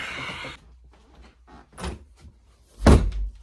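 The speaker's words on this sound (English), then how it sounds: "Yo, don't slam my door." A door slams shut with a single loud, sharp bang near the end, after a stretch of quieter rustling and movement indoors.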